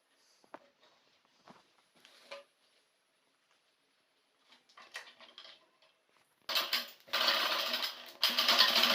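Soft rustling and handling give way to a loud, close sewing machine stitching a kurta, running in a burst with one short break near the end.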